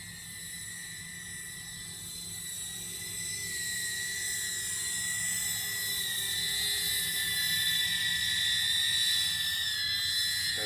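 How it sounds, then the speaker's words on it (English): An Eachine Cvatar 120mm cinewhoop drone carrying a bare GoPro in flight, a continuous high-pitched propeller whine with shifting tones that grows slightly louder over time, with no voices. "it flies a lot better now with the naked GoPro, much less weight"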